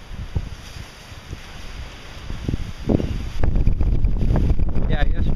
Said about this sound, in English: Getting tired of the wind.